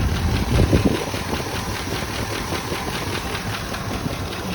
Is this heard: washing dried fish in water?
no